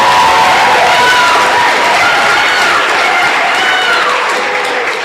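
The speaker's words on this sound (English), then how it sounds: "Please also give the beautiful and brilliant moderator a round of applause, Dr. Ebony Lumumba." A large audience at a public conversation event applauds the moderator, Dr. Ebony Lumumba, with loud, sustained clapping and cheering that stays dense and even throughout.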